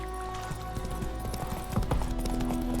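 Hooves of Geralt's horse Roach clip-clopping in a steady trot on a path in The Witcher 3: Wild Hunt, an even rhythmic beat close by under a soft game ambience.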